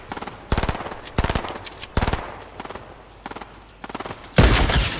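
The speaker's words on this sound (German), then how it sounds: "Ey, die schießt mich an." Fortnite gunfire in a live match: several rapid bursts of automatic shots in quick rhythmic clusters, loud and close, ending in a louder sustained burst.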